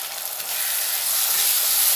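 Tomato stirred with a ground paste of poppy seeds and green chillies gives a short burst of bright, steady sizzling. The hiss is close and fairly loud and grows slightly louder toward the end.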